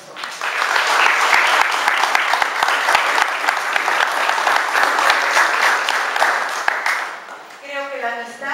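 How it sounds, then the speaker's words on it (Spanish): Audience applause at a book presentation event, sustained steady clapping from a sizable crowd lasting about seven seconds, then tapering as a voice begins speaking. "Queremos pedir un aplauso para las personas."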